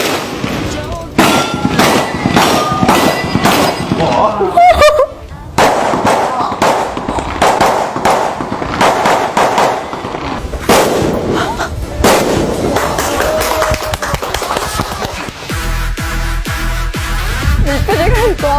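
Repeated gunshots at an outdoor shooting range in Laos, loud sharp cracks fired in irregular bursts across the whole stretch with voices and background music mixed in between shots.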